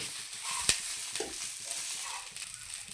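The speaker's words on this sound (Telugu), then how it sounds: "ఇలా బాగా నూనెలో వేపుకోవాలి" Quiet, steady oil sizzle of drumstick leaves frying, with a sharp metallic tap and soft stirring sounds, close by, no talking.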